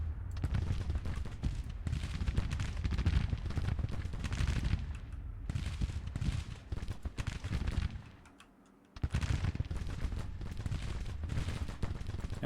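Artillery battery bombardment in Grand Tactician: The Civil War, a dense, continuous rumble of cannon fire and crackling shots at moderate distance, briefly dropping away before the barrage resumes.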